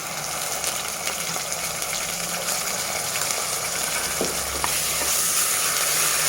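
Browned golden onions with ginger paste frying in a pan, a loud continuous close sizzle and crackle with occasional stirring scrapes throughout.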